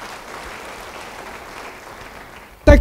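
A church congregation at a worship service claps in a steady, moderate wash of applause, with a sudden loud burst right at the end.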